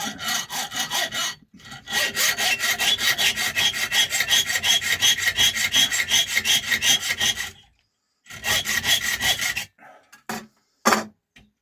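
Loud, close hacksawing through a steel nail held in a vise, fast, steady back-and-forth strokes, a brief stop, then a few shorter bursts and isolated strokes.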